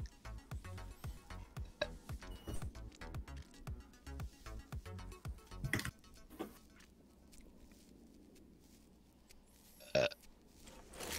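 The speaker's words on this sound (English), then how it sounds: "Burp." A single burp cuts in briefly near the end of a Valorant match, after a stretch of busy, clicky in-game gunfire and effects.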